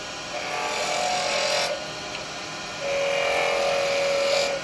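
A roughing gouge cuts spinning wood on a lathe, making a loud, steady whirring drone in two passes separated by a brief quieter gap.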